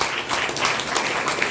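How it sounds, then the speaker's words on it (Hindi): Audience applause fills a hall during a health-and-wellness motivational program in Bhagwanpur, a steady dense wash of many hands clapping at close range with no gaps. "तो एक जोरदार ताली अपने लिए बनाइए।"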